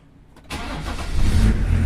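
A Range Rover P38 diesel engine turns over and fires on a hot start after a fix: brief cranking, then it catches and settles into a loud, steady, rising idle rumble up close, with no talk.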